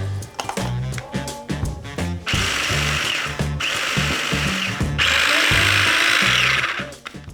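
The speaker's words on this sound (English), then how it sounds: "I'm just going to add them to a processor, blitz them up until they turn into a fine crumb" A food processor whirs in loud, choppy pulses and then in longer, sustained grinding runs as it blitzes crackers into fine crumbs, close up.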